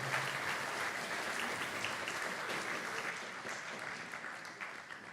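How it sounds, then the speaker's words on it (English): A graduation audience gives a steady round of applause for digital filmmaking graduates, dense clapping from a large crowd that holds throughout and tapers slightly at the end. "Big round of applause for our digital filmmaking graduates."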